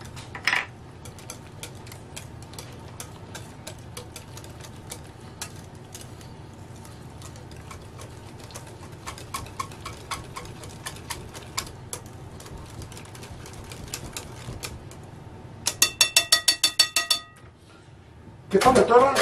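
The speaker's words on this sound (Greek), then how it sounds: "Ανακατεύουμε." Batter being stirred in a bowl after baking powder goes in, giving steady light clinks and ticks of a utensil throughout, with a brisker burst of rapid clatter near the end.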